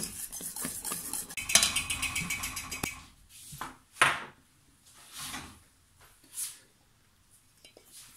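Flan pastry cream is stirred in a pot, with a fast, busy run of utensil scraping and clinking against the pot for the first few seconds, then slower, separate scrapes and knocks with pauses between them.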